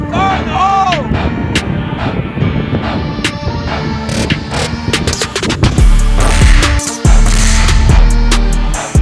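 Loud explosive blasts rumble out after shouted fire-in-the-hole warnings in a firing range setting, with heavy low booms in the latter half, a continuous dense roar and voices mixed in.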